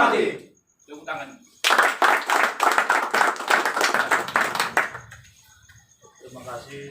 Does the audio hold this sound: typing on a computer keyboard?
no